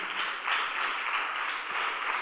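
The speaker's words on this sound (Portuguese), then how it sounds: "Aplaude ao Senhor bem forte pela vida do pastor G" A church congregation applauds, a dense, steady wash of many hands clapping at once that swells and holds throughout.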